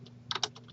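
A few quick clicks on a computer keyboard while entering an Excel formula, three or four close keystrokes in a short burst over a faint steady hum, with no voices.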